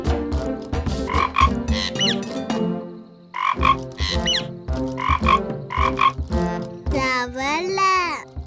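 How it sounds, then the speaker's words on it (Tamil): Repeated croaks from a cartoon frog in a Tamil children's cartoon about rain, coming in short clustered bursts over several seconds, loud and close, mixed with a childlike voice. "தவளை."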